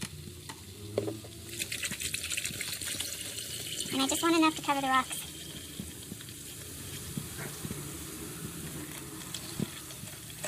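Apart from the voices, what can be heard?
liquid sizzling as poured over manganese-coated quartz rocks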